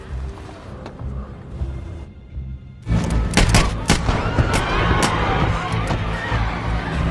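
A burst of several sharp gunshots cracks out after a brief hush, loud and close, over a dense rumbling background of chaotic action in the film Babylon A.D. (2008).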